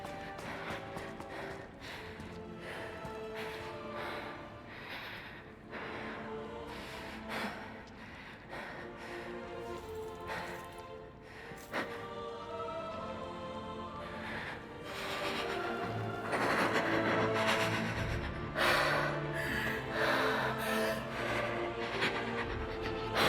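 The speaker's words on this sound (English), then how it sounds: "Some heavy breathing." Heavy, rasping breathing of a stalker enemy in Lies of P, repeated over the game's continuous music and ambience, growing louder toward the end.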